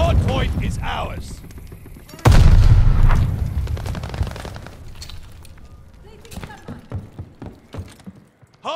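Call of Duty Mobile firefight at a hardpoint: a heavy blast-like crack followed by scattered gunshots and booms that thin out, with game voice chatter underneath.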